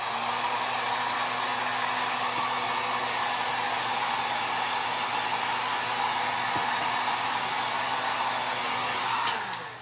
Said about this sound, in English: I'm wondering, okay, with just my heat gun, would that be enough?